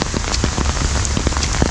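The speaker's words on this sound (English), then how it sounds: "it's pouring down rain" Heavy rain pours down steadily on Tybee Island, Georgia, drops pattering hard on a nearby surface in a constant loud wash.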